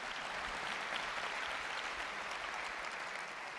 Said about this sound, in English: You can clap, it's good.